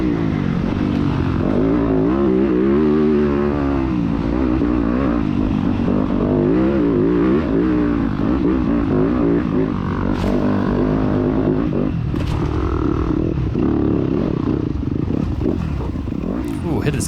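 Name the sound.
dirt bike engines racing, 250F class motocross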